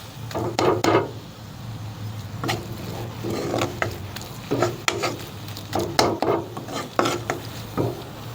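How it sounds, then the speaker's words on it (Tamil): A spoon scrapes and clacks repeatedly against a pan of frying masala for paneer masala gravy over a gentle sizzle, in irregular bursts of stirring, close and fairly loud. "நல்லா கிளறி விடுங்க."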